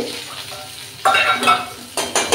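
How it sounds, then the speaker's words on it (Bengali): Chili paste and garlic paste with ground spices sizzle in hot oil while a spoon stirs, scraping the pan in bursts over a steady frying hiss. "তো অলরেডি মশলাটা তেলের উপর নেড়ে নিচ্ছি"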